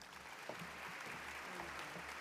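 Audience applause at a school board meeting, a steady wash of clapping held at a low, distant level with no breaks for the whole stretch.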